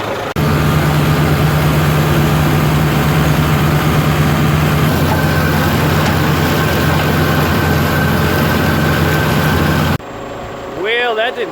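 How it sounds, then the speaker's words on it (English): A tractor-driven hay mower runs in a forage field, a loud, steady low engine drone with a continuous mechanical rumble up close, cutting off near the end into quieter outdoor sound. "So we'll run the mower out."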